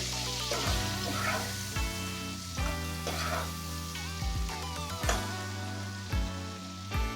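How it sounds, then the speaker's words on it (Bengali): Ingredients for bottle gourd greens fry in a pan, giving a steady sizzle broken by repeated scrapes and knocks of stirring at a moderate, close level, with a low hum underneath and no talk. "এবার সব কিছু একসাথে একটুখানি নাড়াচাড়া করে নেবো"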